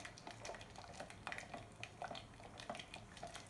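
A spatula stirs a hot African black soap mixture in a pot, making a steady run of soft scraping and sloshing strokes with light clinks. The sound is close and quiet, with no talking.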